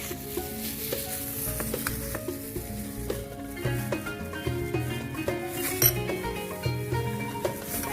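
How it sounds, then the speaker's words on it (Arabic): Filled qatayef pastries frying in hot oil sizzle continuously up close, with frequent light clinks and scrapes of a utensil against the pan as they are turned, and no voices. "ودي بقى هنقليها في الزيت ونقوم حاطين عليها العسل"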